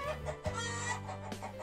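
Hens cluck close by in a low, throaty burst of short calls, moderately loud with no talking over them.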